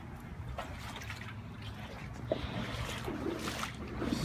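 Brown, cold flood water sloshes and swirls around legs wading thigh-deep through a flooded neighborhood street in Myrtle Beach, with soft splashes and drips up close, fairly quiet.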